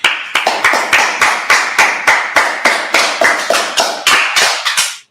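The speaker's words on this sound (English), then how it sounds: "All right, let's clap it up." Steady, rhythmic clapping, roughly four sharp claps per second in even unison, close and loud, continuing for several seconds before stopping.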